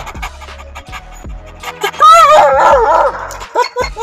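A Gull Dong, the Pakistani bulldog also called Kanda, pants rapidly and whimpers up close, with short yips and a few sharp bursts breaking through a steady breathy rhythm; a voice is heard in the background.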